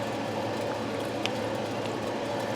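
Untreated tap water is shaken in a container, a steady close-up sloshing and fizzing wash of liquid with no pauses and no talk.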